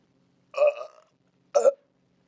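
Two loud, close burps, the first longer and drawn out, the second short and abrupt, with silence around them.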